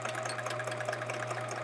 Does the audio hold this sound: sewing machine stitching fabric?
yes